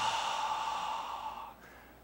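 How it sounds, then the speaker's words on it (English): A long breathy exhalation through the mouth on a soft Ha, a single airy hiss close to the ear, fading out after about one and a half seconds into quiet. "exhale twice as long through the mouth, and you'll make the exhalation of the sound Ha"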